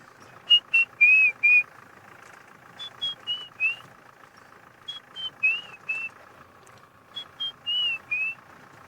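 A person whistles an imitation of a white-browed scrub robin's song, short rising and falling phrases repeated in bursts with pauses between, over a faint steady engine hum, on a game reserve safari.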